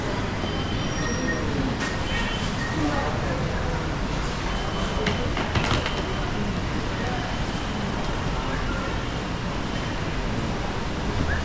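Steady rumbling train noise from inside a moving LRT carriage in Kuala Lumpur, Malaysia, with wheel hiss and occasional faint squeals, continuous throughout.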